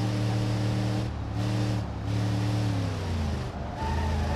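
A pickup truck engine roars at speed in BeamNG.Drive, a loud sustained drone that rises and dips slightly as the throttle shifts, with no talk.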